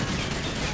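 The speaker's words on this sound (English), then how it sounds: "I think the machine gunner is hitting the tank with his machine gun" Continuous rapid gunfire in a tank battle video game, a dense unbroken rattle of machine gun fire filling the short moment with no pauses, loud and steady.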